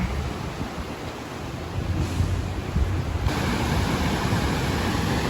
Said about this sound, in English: This is the Great Falls on the Housatonic River.